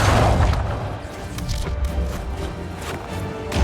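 Trebuchet launching in the video game Dragon Age Inquisition, a loud heavy boom opening the clip and settling into a rumbling, crashing battle din with scattered impacts throughout.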